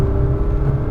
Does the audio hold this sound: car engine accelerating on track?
yes